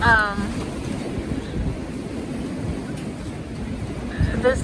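Strong wind ahead of a hurricane roars steadily and loudly, buffeting the microphone in a continuous rumbling rush with no voices.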